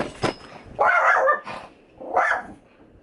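A dog barks close by: one sharp yelp, then two longer, rough barks spaced about a second apart, with no speech.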